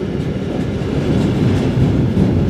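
Freight train wagons rolling past close by on a line near Fulda, a loud, continuous rumbling roar with a dense rattle of wheels and couplings and no voices.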